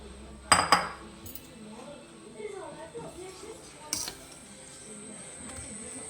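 Custard mix is stirred into warm milk in a pot, with a few sharp metallic clinks of a spoon against the pot over quiet stirring while a person talks.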